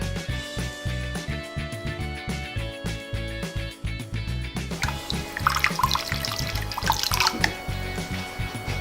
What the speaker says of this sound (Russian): В нашем случае мы будем поливать композицию водой.